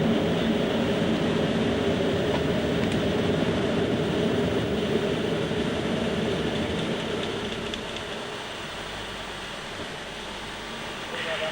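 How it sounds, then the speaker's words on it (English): Loud, steady broadband rush of airflow on the Concorde flight deck during climb after the nose and visor are raised, continuous throughout and easing slightly toward the end. "That airflow noise we were getting before has now diminished."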